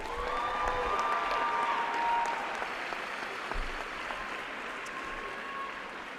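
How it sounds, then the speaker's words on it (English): An audience at a high school graduation ceremony applauds, a dense steady wash of clapping that swells early and then gently tapers over several seconds. "Let's give Makara another round of applause."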